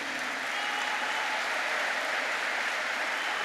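An audience at a lecture on the family by Tariq Ramadan bursts into sustained applause, a loud, dense wash of clapping that holds steady throughout.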